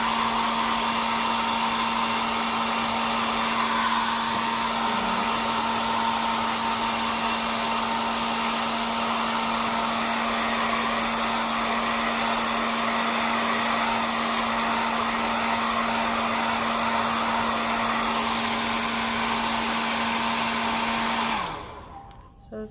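A hair dryer runs steadily up close to dry paint, giving a constant loud whirring blow with a fixed motor hum for over twenty seconds before switching off, with no speech.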